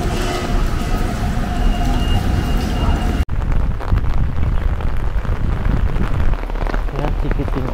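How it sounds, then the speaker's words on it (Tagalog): Heavy rain falls in Taiwan, a loud continuous rushing patter on surfaces close by, with a brief cut partway and a different, slightly duller rain texture afterward. "Ngayon, naulan. Lakas ng ulan."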